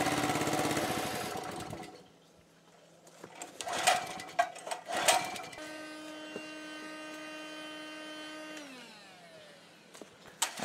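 A gasifier-fuelled engine runs with a steady mechanical drone and whine, interrupted by sputtering bangs, then slows and winds down toward the end as it stalls.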